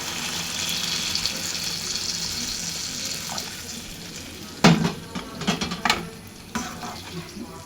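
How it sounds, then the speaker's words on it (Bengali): Water is poured into a pot of curry made with stalks, potatoes and fried rohu fish, a gentle simmering hiss giving way to a few sharp clinks and splashy bursts near the pot, with no voices. "পানি একটু অ্যাড করে দিব"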